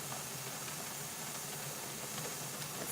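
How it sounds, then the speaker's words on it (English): Steam hisses steadily from a pressure canner that is processing deer meat. The sound is a constant, even rush with no breaks for the whole stretch. "I got good steam coming out of that now"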